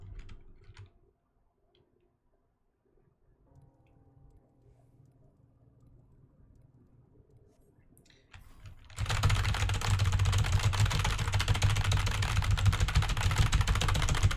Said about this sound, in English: I'm not sure if it's straight up a mechanical keyboard or if it's just a very loud keyboard